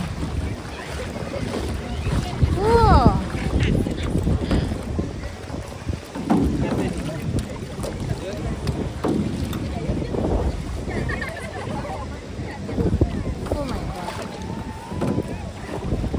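Steady rushing water and wind around a transparent boat moving on open sea near Coral Island, Pattaya, Thailand, with heavy wind buffeting on the microphone and voices talking over it.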